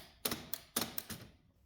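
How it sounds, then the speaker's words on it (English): The interline lever of an Olivetti Linea 98 office typewriter is worked, giving five sharp mechanical clacks in two quick pairs and a single, close and crisp. "And this of course is the interline lever."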